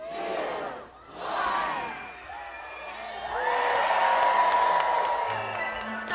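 A crowd cheers and whoops at the relighting of Altadena's century-old Christmas Tree Lane, lined with 153 tall cedars, the roar swelling and holding loud, with a voice over it at the start.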